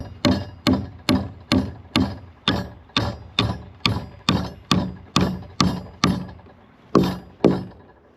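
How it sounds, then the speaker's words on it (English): Sharpened wooden stakes are driven into the ground with a hammer, about fourteen sharp, loud strikes at a steady rhythm with a brief pause near the end, close and with no voices. "I'm gonna just bang them in with a hammer."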